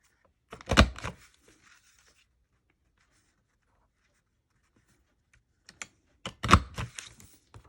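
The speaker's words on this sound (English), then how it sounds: "I'm gonna punch myself some scallops going all the way across" A paper punch cuts a scalloped border at a craft desk: two short bursts of crisp clicking and crunching punches, one near the start and another toward the end, separated by near silence.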